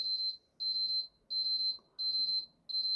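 A PS4 console beeps in a steady series of five identical high electronic tones, each about half a second long with short gaps between, clear and close in a quiet room.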